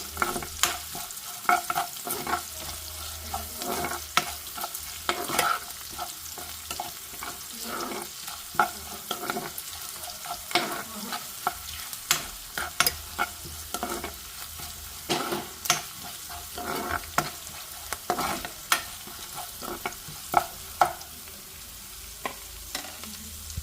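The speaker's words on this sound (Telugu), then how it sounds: "అల్లం వెల్లుల్లి పేస్ట్ వేసాను ఇది పచ్చివాసన పోయే వరకు వేయించుకోవాలి" Ginger garlic paste fries in oil in a pan for potato fried rice, a steady close sizzle broken by frequent sharp scrapes and clinks of a spoon stirring, with no voices.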